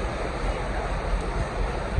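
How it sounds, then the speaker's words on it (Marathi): Strong wind with heavy rain roars in an unseasonal summer storm outside a shop, a loud, continuous rushing wash with low gusty rumbles and no voices. "हा बघा वारा वगैरे सुटले, खतरनाक जोरात वारा सुटला."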